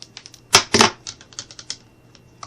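Scissors cutting a popsicle stick, a pair of sharp snaps followed by a run of lighter clicking and crunching cuts, close and dry with no talk.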